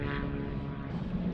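A seaplane's propeller engine drones steadily over water by a beach, a continuous rough hum with a low harmonic buzz, moderately loud throughout with no talk.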